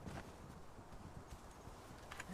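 Horse hooves clip-clopping at a steady walking pace in the game Conan Exiles, a soft, continuous patter of steps heard alone against a low ambient background.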